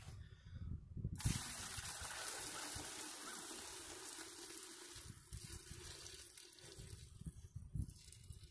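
Boiling water is dumped out in a steady, pouring gush that starts abruptly after about a second and runs on, loud and close, during a degreasing test with Super Clean.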